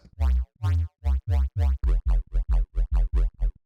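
Deep, fat tube-distorted square-wave synth sub bass made in Serum 2 hits in a rhythmic riddim pattern, starting with slower notes and then quickening into rapid repeated stabs.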